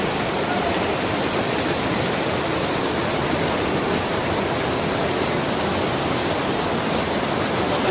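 Fast, turbulent river current in Sikkim rushing with a loud, constant broadband roar, steady and unbroken, heard close up with no voices.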